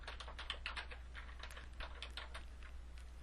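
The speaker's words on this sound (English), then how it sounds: "Then I'll type in a name for my saved game" Typing on a computer keyboard while a file name is entered to save a game in Categories Game Maker, with quick, steady key clicks running throughout over a low background hum.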